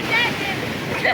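Breaking waves on the shore at Cox's Bazar beach, a continuous rushing surf mixed with wind buffeting the microphone, steady and close with no clear speech.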